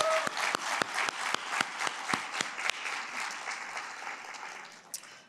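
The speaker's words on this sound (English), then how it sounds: "So if we could give them a round of applause." A crowd claps together in sustained applause at a United Way Power of the Purse women's fundraising event, with sharp individual claps early on before the applause thins and fades toward the end.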